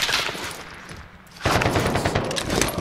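Video game gunfire rattles in rapid automatic bursts, loud and close, briefly easing before a fresh heavy volley erupts.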